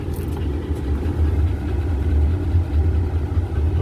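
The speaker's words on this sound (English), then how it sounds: "Driving the white van." Steady low engine rumble from a white van driving past at close range, loud and continuous for a few seconds with no voices.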